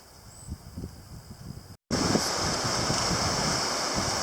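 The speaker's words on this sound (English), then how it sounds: "It is extremely windy here today." Strong wind roars across a northern river with rapids, a broad steady rushing noise that cuts out briefly and then returns louder, buffeting the microphone with no voices.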